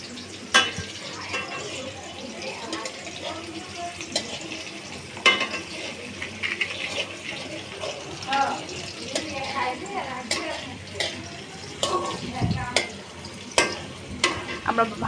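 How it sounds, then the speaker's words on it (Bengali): Onions fry in a pan with a crackling sizzle and intermittent stirring scrapes and clinks, while people talk loosely in the background. "আমরা ভালো করে পেঁয়াজটা ভেজে নিব"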